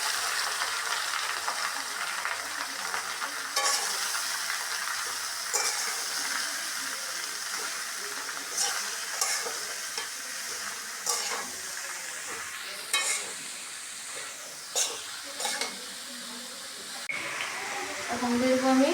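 Green chili and pumpkin hitting hot oil in a pan, a steady bright sizzle and hiss with occasional stirring scrapes, close and fairly loud.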